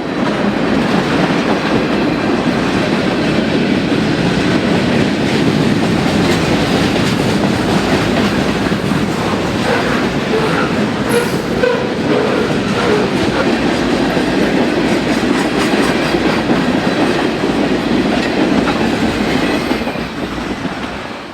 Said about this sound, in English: The train is M399, a daily Toronto to Kirk Yard manifest.